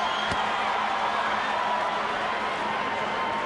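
A boxing arena crowd roars as the fighters are summoned to the center of the ring for Evander Holyfield versus Chris Byrd, a dense, steady wash of cheering and murmur with one brief sharp snap near the start.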